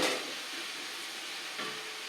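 Black chickpeas fry in a pan with a steady, soft hiss and crackle, and a brief stirring scrape comes near the end, with no voices.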